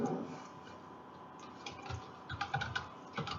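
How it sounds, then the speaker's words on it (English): Quiet, steady typing on a computer keyboard, close and continuous, with rapid irregular key clicks and no voices. "Type in whatever you want."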